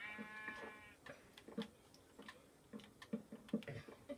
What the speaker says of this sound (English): I want to kill the sheep.